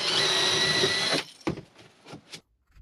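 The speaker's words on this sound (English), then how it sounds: "And then drilling the much smaller, much neater access holes." A power drill whines loudly and continuously while boring small access holes in cabinetry boards, then cuts off, followed by a few brief knocks and handling sounds.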